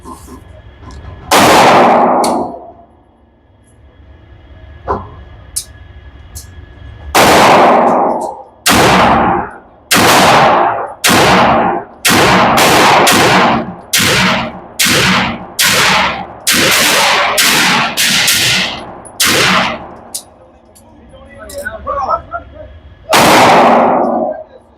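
A 9mm pistol fitted with a custom slide fires at steel targets outdoors: about fifteen sharp, loud shots, a few spaced apart and then a fast run of evenly paced reports, each followed by a brief ringing tail.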